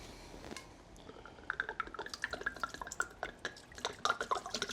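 Brine mixture being poured over a turkey in a bucket, a rapid run of close splashes and drips that starts faint and grows denser and louder partway through, with no talk.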